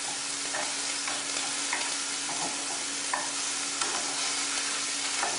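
Scallops sizzle steadily in a hot pan, giving a dense, constant hiss. Soft scrapes and taps from turning them come through now and then, and nobody speaks.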